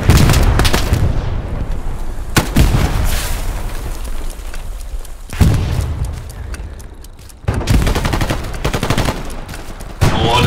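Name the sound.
gunfire from all sides in the video game Hell Let Loose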